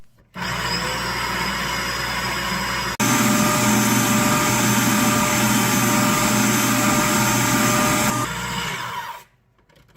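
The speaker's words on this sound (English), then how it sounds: "Beat it in. And then add the rest. Mix until a thick batter forms." An electric mixer beats orange cake batter with a steady, loud whirring drone that shifts pitch and intensity partway through, then cuts off at the end.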